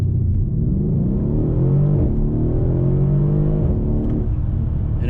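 Mercedes-Benz AMG CLS 63 S V8 pulling hard from inside the cabin, a steady heavy rumble with rising engine pitch as it accelerates, loud and continuous throughout.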